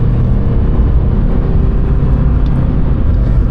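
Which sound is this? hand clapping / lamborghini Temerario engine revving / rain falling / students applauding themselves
lamborghini Temerario engine revving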